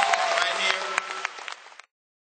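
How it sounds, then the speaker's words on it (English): Audience applause for a performer at a Tyler Perry stage play, a dense, steady wash of clapping with scattered sharper claps that runs close and loud for nearly two seconds, then cuts off abruptly. "let's just give her a big round of applause and let her know how much we love her"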